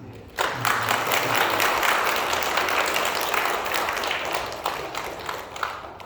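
A church congregation at Sunday worship applauds to welcome first-time visitors, a dense, steady round of clapping that starts abruptly and holds for several seconds before slowly tapering.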